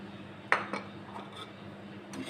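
Cornflour mixture is stirred into milk in a pot with a couple of sharp metallic clinks of a spoon against the rim, then soft scraping and light taps over a low steady hum, close by.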